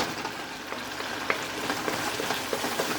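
Lemongrass chicken fries in oil with a continuous soft sizzle and crackle, punctuated by small pops and stirring scrapes.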